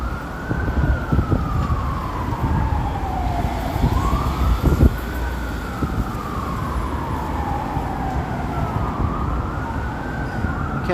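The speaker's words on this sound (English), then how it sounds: "And I hear some sirens finally." An emergency vehicle siren wails in slow rising and falling sweeps, steady and fairly distant, over a constant rumble of city traffic at Bloor and Yonge in Toronto.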